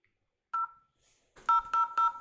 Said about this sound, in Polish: usłyszeliśmy taki potrójny, charakterystyczny dźwięk, który również nam e, jakby nas sygnalizuje, że ten produkt jest ok